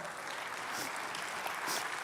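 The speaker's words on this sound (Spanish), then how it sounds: "Un fuerte aplauso a Fernando" An audience gives Fernando a steady round of applause at a talk, many hands clapping in a dense, even wash at moderate distance with no voices over it.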